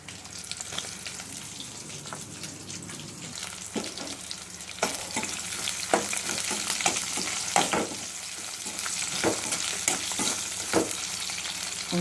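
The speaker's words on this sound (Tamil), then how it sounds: "சீக்கிரமாக வெங்காயம் வதங்கும்" Onions sauté in a pan for a mushroom kulambu, a continuous, up-close sizzle broken by a run of sharp spatula scrapes and taps that grow busier and louder as the stirring goes on.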